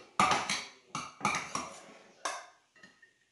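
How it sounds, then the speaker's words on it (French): A spoon scrapes and clatters in a pot as parsley is stirred into rice for a homemade veal blanquette, four or five close, irregular bursts over a quiet background. "Voilà, donc je vais mettre mon persil dans mon riz. Je vais mélanger tout ceci."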